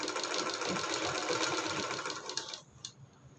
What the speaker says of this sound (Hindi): हमने उधर का जैसे चलाया था सेम उसी तरह इसको भी हाफ इंच पकड़ते हुए इधर चला देना है सिलाई